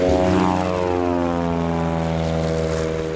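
A propeller airplane towing an aerial banner passes overhead, its loud droning engine tone sliding downward in pitch as it moves away, steady and alone.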